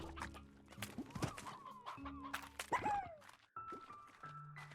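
Chickens cluck in the Slime Rancher video game, a busy scatter of short clucks and squawks close by, mixed with soft game tones and clicks.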